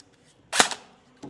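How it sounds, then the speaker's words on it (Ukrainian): A single sharp dry shot from an M4 CM507 airsoft rifle, fired with no BB, snaps out loudly, followed by a quick rattle and a softer click a moment later. "Робите холостий постріл в мішень,"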